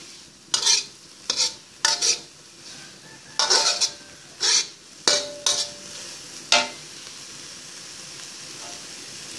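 Insects stir-frying in a pan with Thai Chinese soy sauce in a rural Thai kitchen: a series of sharp scraping stirs and sizzling bursts in an irregular rhythm, close and clear, with no talk.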